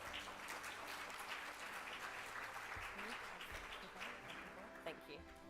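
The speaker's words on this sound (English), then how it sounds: "Let's give her a round of applause." An audience at an education conference in Dubai gives a steady round of applause, a continuous wash of clapping at moderate level with a voice briefly audible underneath.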